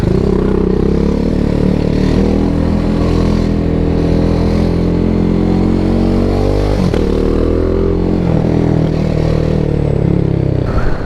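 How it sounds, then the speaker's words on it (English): A BMW G310R motorcycle rides in first gear through city traffic, its loud exhaust droning close and continuous with steady revs and a brief throttle change partway through. "If I go first gear while filtering, people are going to hear me"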